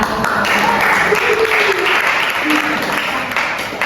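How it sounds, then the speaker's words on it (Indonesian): An audience applauds at a teacher training presentation, a loud, sustained wash of clapping from a crowd with voices mixed in beneath it. "Tepuk tangan."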